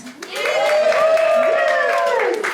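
Cruise ship audience cheering and whooping together at sea, a loud sustained crowd roar with raised voices lasting the whole moment.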